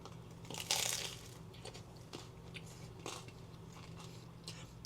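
A bite into sourdough French bread pepperoni pizza gives one loud close crunch, then softer crackling chews and crumbly crunches over a low steady room hum.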